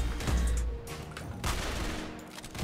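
Rapid gunfire bursts in the Roblox game Arsenal, several quick shots in close succession, loud and near with no voices over them.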